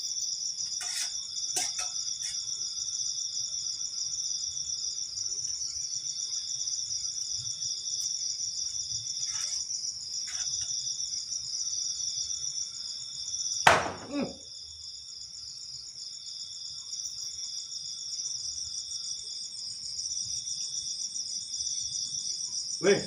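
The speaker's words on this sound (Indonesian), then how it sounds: "Jangkrik." Steady, continuous cricket chirping fills the background throughout, a high shrill trill with a few brief sharp noises, one louder click midway.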